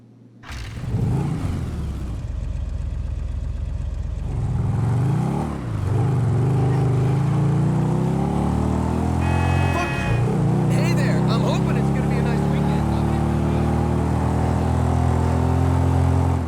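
The old Western Daemon motorcycle in GTA Online cranks, starts and idles with a deep rumble, then revs and pulls away, its engine note rising and falling through gear changes, loud and close throughout.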